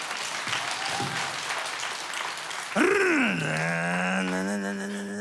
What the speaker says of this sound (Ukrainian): Друзі, оплески ваші!